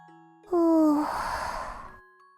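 Rena's snore in the Higurashi visual novel, a single cute, voiced, falling breath that trails off into a breathy exhale, set against faint sustained musical tones.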